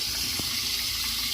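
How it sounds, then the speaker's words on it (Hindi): Water rushes steadily into a tank fed by a freshly repaired motor, a close, hissing, continuous flow with no breaks. "पानी आ रहा है दोस्तों, पानी भरा हुआ भी है।"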